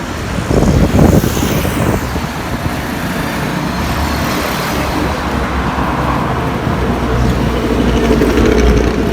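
Steady road traffic on the Malir national highway, a continuous wash of cars and heavier vehicles passing nearby at moderate loudness, with no talking.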